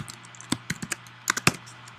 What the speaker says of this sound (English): let's just type in error space plus error dot get message.